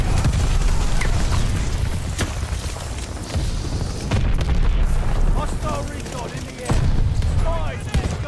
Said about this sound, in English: There were some miserable bombs out there.